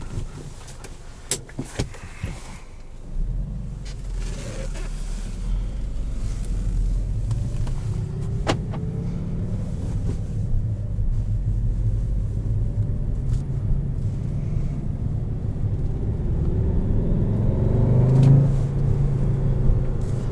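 A 2017 Volkswagen Jetta GLI with a manual gearbox drives along, its engine and road noise forming a steady low rumble that swells gradually, broken by a few scattered clicks and knocks early on, with no voices.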